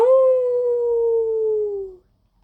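A single drawn-out dog howl, loud and close, holding a steady wavering tone for about two seconds before cutting off into quiet.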